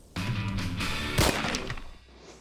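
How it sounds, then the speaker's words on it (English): A .338 Savage rifle topped with a scope fires a single sharp shot while being sighted in outdoors on the prairie, and the report trails away quickly. "So I'm sighting in my 338 Savage."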